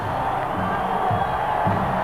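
Dense arena crowd noise from Phoenix fans at a 1990 NBA playoff basketball game between the Suns and the Trail Blazers, a steady roar with faint whoops rising throughout.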